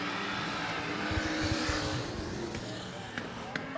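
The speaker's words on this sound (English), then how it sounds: "he is not shy about stretching the legs of the big V8 Commodore" Big V8 Commodore super stock race car powering around a speedway during a 20/20 event, a steady engine roar with rising revs, mid-distance and fairly loud, with brief sharp bursts later on.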